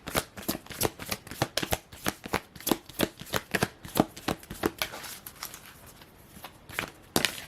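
A tarot deck is shuffled close up in quick rapid riffles and flicks, a dense run of crisp card snaps that thins out toward the end, with a few sharp slaps as cards are pulled and set down.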